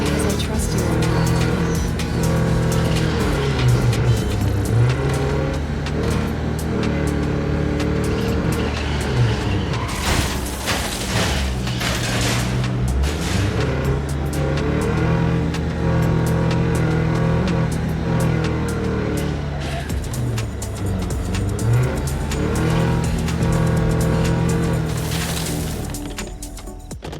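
A car driving and revving in a video game, a steady loud engine drone with rising and falling revs across the span, with talking over it.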